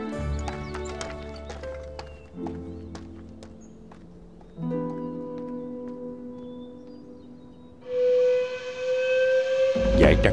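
Horse hooves in a martial arts film scene, a quick run of clip-clop beats at the start over a layered music score that swells into a loud sustained tone near the end.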